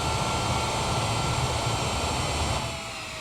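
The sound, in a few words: Boeing 787 Dreamliner jet engines in reverse thrust, Microsoft Flight Simulator video game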